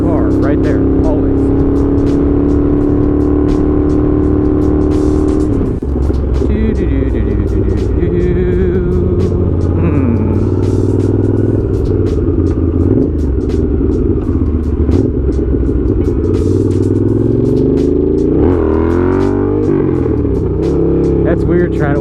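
A Honda GL650 motorcycle is ridden hard and revved, its engine loud and close throughout, with rising and falling pitch as it accelerates and shifts, while a rider talks over the engine noise.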